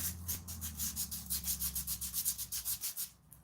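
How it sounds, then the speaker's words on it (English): A sword blade being hand sanded with 220 grit sandpaper, with rhythmic back-and-forth rasping strokes at a steady pace, close up and fairly quiet, under a low background hum. "You just want to make sure you're going against the grind lines when you're hand sanding"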